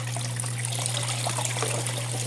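Water runs steadily over a Miller table washing gold concentrates, a continuous close trickle and splash with a constant low pump-like hum underneath.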